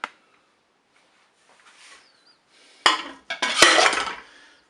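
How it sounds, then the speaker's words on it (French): A baking mould is set down into the metal pot of a Cookeo multicooker, giving a clattering clink and scrape of cookware after a near-silent pause, close and alone. "Je vais déposer le moule dans ma cuve."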